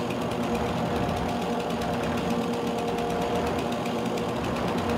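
A weed eater engine in Farming Simulator 22 drones steadily and loudly, a buzzing, rapidly pulsing motor note holding unbroken throughout with no voices.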